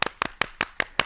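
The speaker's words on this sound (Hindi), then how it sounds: "आइए हंसते हंसाते, सेहत बनाते, ताली बजाते स्वागत करते हैं मिस्टर राजू का" Hands clapping in a steady rhythm to welcome a guest on a morning television show, six crisp doubled claps spaced evenly and close, with no voices over them.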